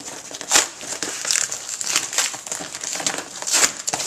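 Packaging on the box of a Sega Genesis Model 2 console crinkles and rustles continuously as it is torn open, close and moderately loud, with sharper crackles mixed in.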